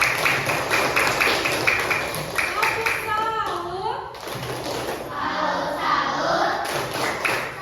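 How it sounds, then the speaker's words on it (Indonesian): Students clapping in a classroom, a burst of quick rhythmic claps near the start that fades as voices talk over it, with scattered thumps and taps. "Tepuk tangan lagi untuk kalian."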